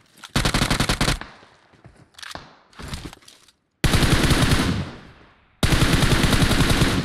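Automatic gunfire in PUBG Mobile, loud rapid bursts close by, with several short bursts followed by two long sustained sprays separated by brief silence.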